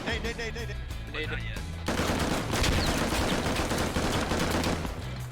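In the military video game Squad, a grenade goes off and gunfire erupts, a sudden loud burst of dense crackling shots and blast noise following a few seconds of quieter background sound.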